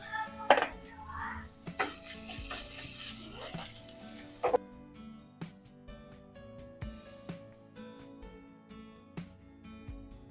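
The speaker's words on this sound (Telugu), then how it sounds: "మిర్చి ఫ్రై అయ్యాక ఇందులోకి ఒక 1/2 స్పూన్ అల్లం వెల్లుల్లి పేస్ట్ యాడ్ చేస్తున్నాను" Ginger garlic paste sizzles with green chillies in a hot pan, a soft frying hiss broken by spoon scrapes and metallic clinks of stirring, with a voice speaking now and then.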